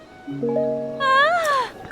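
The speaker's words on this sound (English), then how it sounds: "Why do the NPCs have to moan and make weird sounds like this?" A strange wavering vocal moan from a Zelda video game character, rising and bending in pitch, loud and close, with no words.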